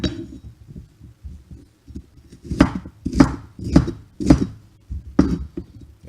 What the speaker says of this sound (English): I'm going to go ahead and cut up the green pepper into 1/4-inch dices